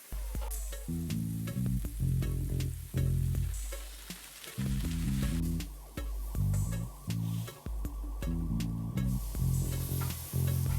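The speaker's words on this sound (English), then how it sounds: "Let's go ahead and add the pork to the pan. Alright, so we're just going to sear them on both sides for about 4 minutes." Jerk pork tenderloin sears in a hot pan with a continuous crackling sizzle, close and bright, while tonal background music with a repeating melody plays underneath.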